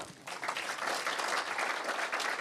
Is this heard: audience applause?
yes